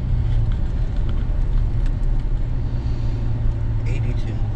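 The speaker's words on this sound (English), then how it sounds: "It's just the truck sitting there running, I guess." A parked truck sits idling, its close, loud low engine rumble droning steadily throughout with brief faint higher noises on top.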